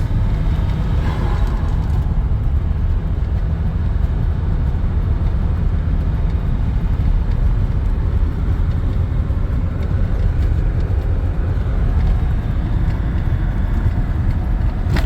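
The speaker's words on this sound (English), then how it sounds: "I'm just driving normal, lots of turbo noises." A Porsche 924 Turbo driven at normal pace, heard from inside as a loud, constant low engine and road drone that stays steady for the whole stretch.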